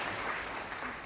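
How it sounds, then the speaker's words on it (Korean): A church congregation claps in praise during a Korean Sunday afternoon service, a brief, faint, even patter of applause heard from a distance. "영광의 박수 하나님께 올려드리겠습니다"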